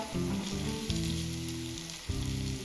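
Potato bhaji pakodas deep-frying in hot oil, a continuous bubbling sizzle, close and fairly quiet, steady throughout with a slight surge near the end and no voices.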